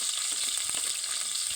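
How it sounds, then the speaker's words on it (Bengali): Onion paste frying in a small amount of oil makes a close, steady hissing sizzle, bright and continuous, with no voices. "একই তেলে দিয়ে দেবো পেঁয়াজ বাটা।"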